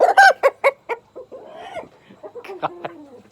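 A heritage Delaware broiler rooster clucks close and loud in a run of sharp, quick clucks, then drops into lower, drawn-out grumbling calls toward the end.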